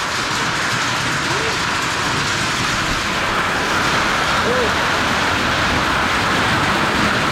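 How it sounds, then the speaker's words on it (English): Steady, dense roar of heavy rain pouring down during a hailstorm in Australia, loud and continuous, with a faint voice now and then underneath. "we have some crazy rain falling right now"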